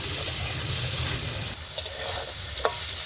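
Potatoes sizzle steadily in hot oil, a loud dense crackle broken by a few sharp stirring clinks and scrapes near the end.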